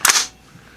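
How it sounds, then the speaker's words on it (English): A rifle trigger is dry-fired on a snap cap, giving a single sharp, close metallic click followed by a brief ring-off. "And it's going to go click and bang. So I have snap caps in this particular rifle"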